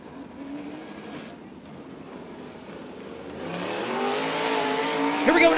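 Dirt track race car on a timed qualifying lap at a Louisiana state championship speedway, engine drone building and growing louder as it nears, with a faint squeal at the end.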